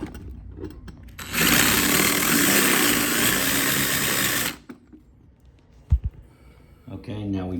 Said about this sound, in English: Okay, now we drilled both.